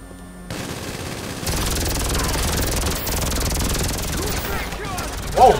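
Rapid automatic gunfire rattles through a GTA Online casino mission on PC, in dense sustained bursts over a rumbling game soundscape, with a sharper blast near the end.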